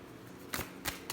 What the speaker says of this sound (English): Let me give it one more shuffle.